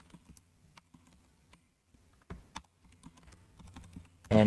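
Keystrokes on a computer keyboard typed in short irregular bursts with pauses between, close and fairly quiet, ending in a louder clatter of keys.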